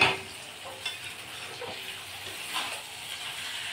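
Chicken sautéing with spices in a hot pan for biryani: a continuous hissing sizzle punctuated by a few scraping stirs, close and moderately loud, with no talking.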